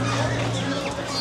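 Chickens cluck steadily at a busy village market in Dohar, Bangladesh, amid a dense crowd murmur, with people talking throughout.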